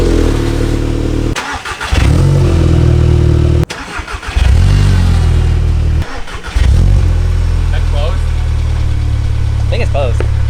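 Volkswagen MK7 GTI turbo four-cylinder cranking and firing up three times with its XForce valved exhaust shut, each start a sharp burst settling into a steady, loud, close idle rumble.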